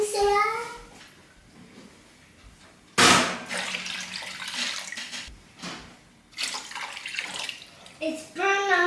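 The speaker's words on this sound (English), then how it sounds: "Okay, we need some more water in there." Water runs from a tap into a crock pot being cleaned, starting abruptly as a loud broadband splash and continuing unevenly, with a voice and people talking around it.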